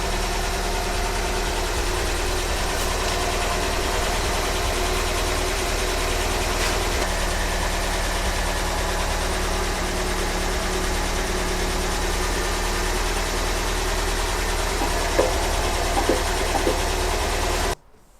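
A 1977 MGB Roadster engine idles smoothly and steadily at close range, a continuous even hum with no talking, running on for the whole stretch before cutting off abruptly at the end.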